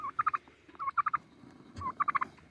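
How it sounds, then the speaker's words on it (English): A turkey gobbles in bursts of rapid, rattling notes, three separate gobbles in quick succession, fairly close against a quiet outdoor background on the first day of spring. "That turkey's been locked up with that little hen there for the last couple weeks, and just now today I let him out."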